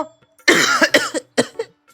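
A person has a heavy coughing fit: one long harsh rasping cough followed by several short sharp bursts in quick succession, close and loud against near silence.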